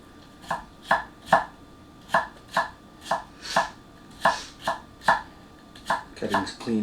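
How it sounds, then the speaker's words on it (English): A budget gyuto knife julienne-cutting carrots on a board: about fifteen crisp, evenly spaced chops knocking through the veg onto the wood, close and clear, ending in a quick flurry of faster cuts. "Cutting's clean through. It's not wedging at all because of the thin edge."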